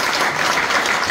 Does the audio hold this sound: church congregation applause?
yes